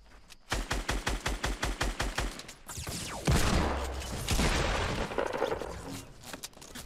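Gunfire in the video game Fortnite: a rapid string of about a dozen evenly spaced shots, loud and close, followed by a dense wash of blasts, explosions and in-game action.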